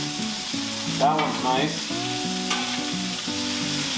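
Bacon and sausage fry on a Blackstone griddle, crackling and sizzling steadily up close, with a spatula scraping and stirring and someone briefly speaking over it.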